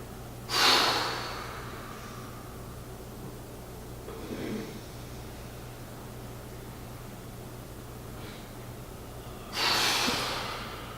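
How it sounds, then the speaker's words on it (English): Two deep, forceful breaths through the nose come about nine seconds apart during a breathing exercise, with a fainter breath in between, all close and heard alone over a quiet room hum. "So if you're breathing in for a count of 3, you release and exhale for a count of 3."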